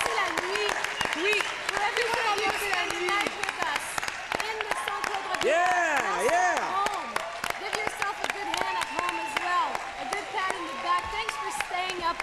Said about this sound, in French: On donne une bonne main d'applaudissement à tous ceux qui ont passé la nuit.